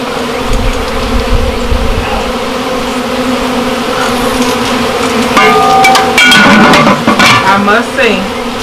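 Bees buzz loudly and continuously in a hive being moved, a dense close drone that grows more agitated near the end, mixed with knocks and clinks from handling.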